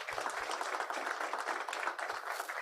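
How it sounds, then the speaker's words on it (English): Conference audience applauding panelists at a health security report launch, a continuous wash of clapping from a seated crowd, fairly distant and even throughout. "let us give our panelists a round of applause"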